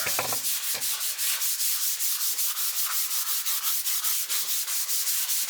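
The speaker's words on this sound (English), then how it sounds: "So now it's time to go into polishing mode" Abrasive pads rub steadily over the finish of a 7-string Les Paul-style guitar, giving a close, loud, rhythmic back-and-forth scrubbing with a couple of sharper knocks near the start.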